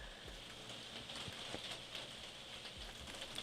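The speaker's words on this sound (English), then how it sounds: "God, that rain is loud." Steady rain falling inside the BlockMania video game, a dense hiss of drops with scattered louder spatters, fairly faint and heard alone without any voices.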